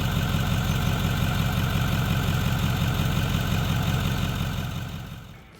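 A Ford diesel engine, just jump-started, idles with a loud, close, steady knocking clatter that runs evenly before fading out as it is switched off near the end, with no talk.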